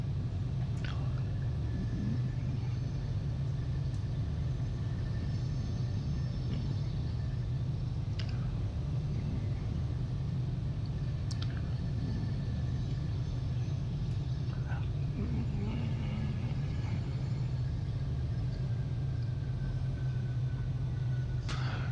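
Low, steady engine rumble inside a full-motion Boeing 737-800 flight simulator running on a single engine, a constant droning hum with faint occasional clicks and tones over it.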